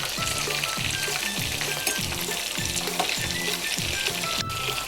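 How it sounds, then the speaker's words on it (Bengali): Chicken pieces frying in oil for Korean-style honey chicken, a loud continuous sizzle with crackling spatter and regular pulses of stirring, close and with no talk. "আমি এই চিকেনটা কিন্তু খুব বেশি কড়া করে ফ্রাই করব না"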